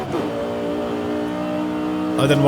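A naturally aspirated Lexus LC engine in Forza Horizon 5 drones steadily at high revs, its harmonic whine holding nearly constant before surging louder at the end, with no talking.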